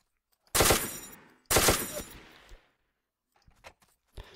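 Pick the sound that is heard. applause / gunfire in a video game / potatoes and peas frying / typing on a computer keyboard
gunfire in a video game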